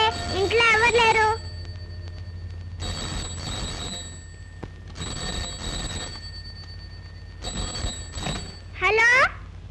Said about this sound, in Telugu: ఫోన్ మోతుంది, ఇంట్లో ఎవరు లేరు.